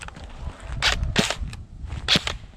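Airsoft gun fired at close range at a player's foot during an outdoor game, sharp snapping shots in a quick irregular series, several crisp cracks standing out over quiet background.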